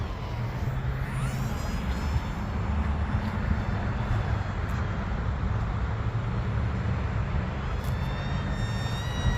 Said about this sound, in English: You can still hear the prop in the back though.